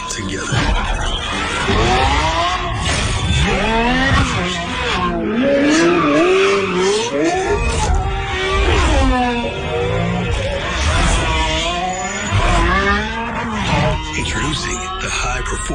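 Lamborghini Revuelto V12 plug-in hybrid driving hard: loud, continuous engine wail with sweeping rising and falling pitch as it revs through gears, tire squeal mixed in, close and alone without talk.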